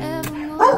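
A dog lets out one short, sharp bark near the end, close by, at a family home during a Valentine's visit, after a steady low background hum.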